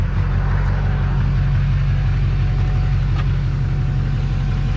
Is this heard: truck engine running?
yes